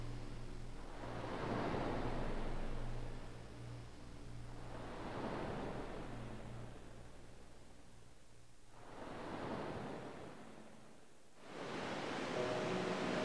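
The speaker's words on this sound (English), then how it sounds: "Holding it up to his ear like a shell. Can you hear the ocean?" Ocean surf heard through a shell in Final Fantasy X, four slow swells of hissing water rising and falling about every three seconds, soft and distant over a low steady hum.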